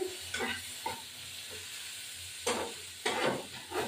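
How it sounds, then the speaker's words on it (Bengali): Onions fry in a pan with a pinch of cumin and ground coriander for a fish dish. A steady close hiss runs throughout, broken by several louder scraping stirs, with no talking. "পেঁয়াজ দিয়ে ভাজা ভাজা হবে"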